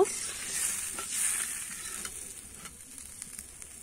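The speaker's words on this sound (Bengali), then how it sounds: "আমি ঝোলটা কিন্তু ভালো করে ফুটিয়ে নেব।" Curry gravy for a raw banana kofta curry simmers in a pan with a soft, low bubbling hiss and a few faint spoon scrapes, quiet and steady with no talking.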